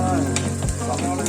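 Garlic frying in oil in a pan for a Kerala-style tuna curry, a steady close sizzle with a few soft scrapes of stirring and no voices.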